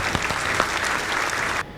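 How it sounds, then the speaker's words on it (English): Audience applause during a custom PC build showcase: a steady burst of clapping from a small group that runs for under two seconds, then cuts off abruptly. "Give them a round of applause"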